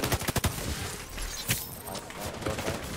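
Gunfire in a Dark Zone video game match: a cluster of sharp, close shots opens, followed by more scattered shots over a dense, noisy game backdrop.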